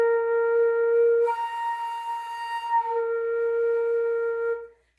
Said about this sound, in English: we're going to try to do some octave slurs